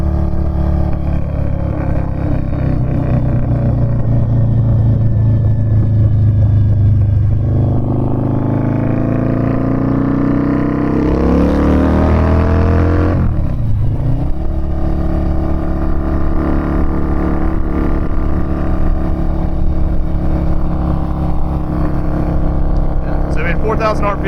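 A 2006 Harley-Davidson V-Rod motorcycle rides and accelerates, its engine note climbing through a loud revving surge midway before settling into a steady close rumble.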